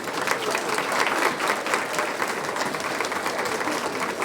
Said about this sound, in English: Go ahead and give them a round of applause for that.